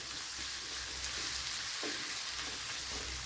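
Chopped small onion sautéing in a pan for a mackerel fish curry, a steady, fairly quiet sizzle of frying throughout with a few faint stirring scrapes and no voices.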